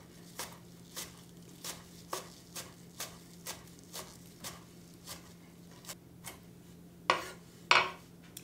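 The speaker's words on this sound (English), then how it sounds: "So go ahead and chop those really fine, mince those up." A knife mincing fresh chives and basil on a cutting board, crisp evenly spaced chops about twice a second, close and clear with no talking, ending in two heavier scraping strokes.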